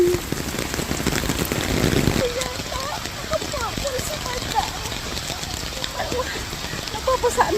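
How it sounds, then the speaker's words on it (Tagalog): Heavy rain pours down in a steady, dense hiss, with voices and brief vocal sounds breaking through now and then. "lumakas ang ulan."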